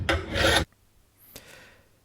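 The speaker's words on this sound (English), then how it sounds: "I'm just going to use a file, sharpen up quickly" A hand file rasps across a ride-on mower blade from a Husqvana TS342: one loud, close scraping stroke, then a quieter second stroke after a short pause.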